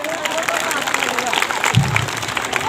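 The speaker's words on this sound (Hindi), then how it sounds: "मेरी टिकट का जोरदार तालियों से स्वागत करेंगे सभी बच्चे" Children at a school food fair and results-day event clap loudly together in a sustained burst of applause, with voices talking over it.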